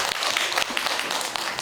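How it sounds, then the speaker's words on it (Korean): A short burst of clapping from a small lecture audience, close and uneven, with individual hand claps audible. "자, 나한테 박수."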